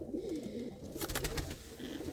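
A female pigeon gives a short, close coo near the start, followed by a brief burst of clattering and rustling, with no talking.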